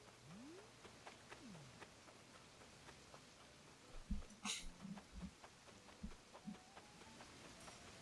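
In the video game Animal Crossing: New Horizons, light rain hisses steadily in the background, while a few brief thuds and a sharp bright burst break in midway through.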